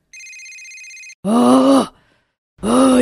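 A mobile phone ringtone plays a steady electronic tone for about a second in a cartoon, followed by two loud, drawn-out groaning voice sounds.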